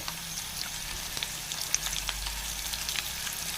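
Food sizzles in a pan with soft, steady crackling and scattered pops, a low even frying hiss throughout with no one talking.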